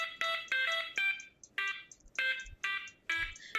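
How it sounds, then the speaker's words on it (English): A hacked school fire alarm in the Butterfly Soup video game plays the Super Mario Bros. theme as a string of shrill electronic beeps. The short tones come in a bouncy melodic rhythm, clear and alone. "Someone hacked the fire alarms to play Super Mario Bros. Theme."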